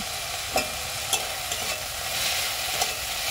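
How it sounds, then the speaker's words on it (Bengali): A utensil stirs chopped tomato with salt and turmeric in a hot pan, making a steady sizzle with a few soft scraping strokes close up. "এটা আমি 2 মিনিটের মতো খুব ভালো করে নাড়াচাড়া করে নেব।"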